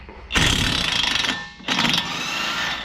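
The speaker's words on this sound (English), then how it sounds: "I'm going to get an 18 in my impact and take out these 2 strut mount bolts down here." An impact wrench with an 18 mm socket removes the strut mount bolts on a 2007 Shelby GT500 Mustang during a suspension upgrade: two loud, close, rapid hammering bursts, about a second each, with a brief pause between.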